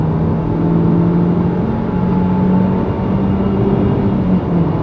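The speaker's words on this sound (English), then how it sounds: "And listen to the engine note now." A 2020 Renault Duster turbo petrol with a CVT revs steadily, its engine drone heard from inside the cabin as a loud, sustained hum without speech.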